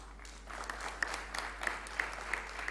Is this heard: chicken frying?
no